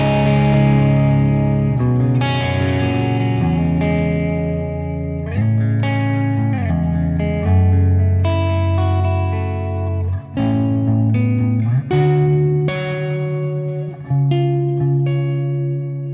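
An electric guitar on its neck pickup, in the middle position, plays through the Archetype: Rabea amp plugin at its default preset. Distorted, chorus-tinged chords and sustained notes ring out with reverb in a continuous, loud passage, with no talking.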